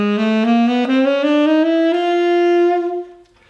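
Saxophone playing a chromatic scale rising in half steps, a clear, close, sustained tone climbing steadily note by note for about three seconds, then stopping, with no voices.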